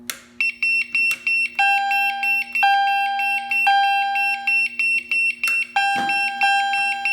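A home fire alarm panel re-alarms during a system test, sounding loud, repeating electronic beeps in steady pulses with a constant high tone, a brief break near the end before the pulsing resumes.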